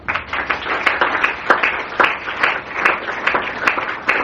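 A church congregation at an evening teaching service claps and applauds, a dense, steady wash of many hands with sharp individual claps popping out, loud and continuous, with no talk over it.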